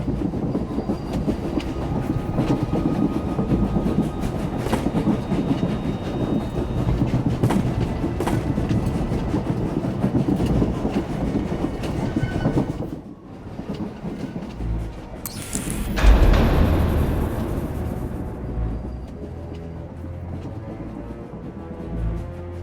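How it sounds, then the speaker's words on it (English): A moving train in the video game SWTOR rumbles continuously with rhythmic rail clatter and a loud low roar, dipping briefly before a burst of hissing and squealing, then settling into a quieter rolling drone. "The train is on the move, and the traitor's on board."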